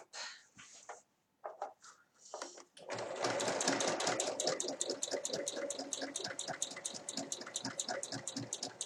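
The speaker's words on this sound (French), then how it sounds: "je vais venir faire une surpiqûre à 1 mm du bord tout autour pour bien maintenir tout en place et refermer le bas." After a few soft handling clicks, a sewing machine starts up and runs continuously, topstitching 1 mm from the edge around a fabric apron with a steady, close, rapid mechanical chatter.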